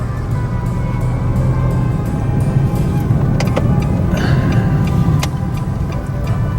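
A big car passes on a street in Chiang Rai, its broad engine rumble and road noise steady and fairly loud throughout, with faint ticking and background traffic.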